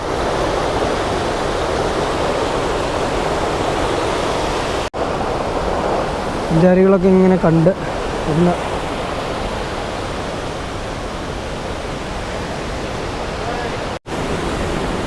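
Rushing water of Kuthungal waterfall in Idukki, a steady broadband roar that fills the whole stretch, with a short stretch of someone talking over it midway.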